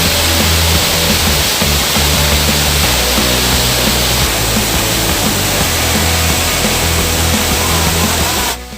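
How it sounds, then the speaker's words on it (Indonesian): Third tier of the Baruttung Gollae waterfall, a loud, steady roar of falling water that stays constant throughout and fills the whole clip, then drops off briefly at the very end. "mendatangi air terjun yang ketiga ini"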